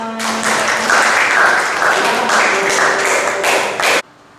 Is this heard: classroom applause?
yes